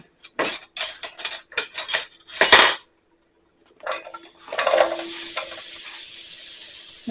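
Half a small chopped onion drops into hot vegetable oil in a pan after a series of close clattering knocks of utensils, then a steady sizzling hiss of frying takes over and continues to the end.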